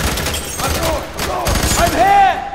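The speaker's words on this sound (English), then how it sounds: "Under heavy fire!" Heavy gunfire in FEAR 3, a dense rapid fusillade of shots up close and loud, with voices talking and shouting over it.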